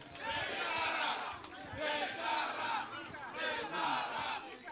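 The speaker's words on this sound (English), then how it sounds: "A round of applause for him." A crowd at a Nigerian political gathering cheers and chants in rising and falling waves for Honorable Betara, loud and continuous, with voices swelling in rhythmic bursts.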